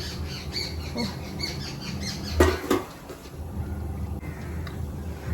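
Birds call from the many trees around a house, with squawky chirps and calls scattered through the background, one louder burst in the middle and no speech.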